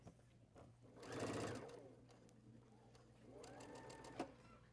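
A sewing machine stitches quilt pieces assembly-line style in two short runs, the motor whirring up for about a second each time with a pause between, fairly quiet and close, while people talk softly nearby.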